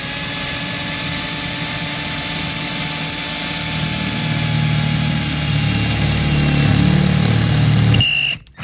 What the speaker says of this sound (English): I love drilling holes in cars.